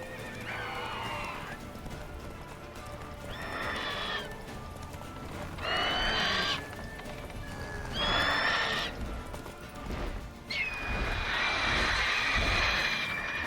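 A horse in the video game Witcher 3 gallops with continuous clip-clop hoofbeats while whinnying loudly several times, the neighs spaced a couple of seconds apart and ending in a longer, drawn-out whinny.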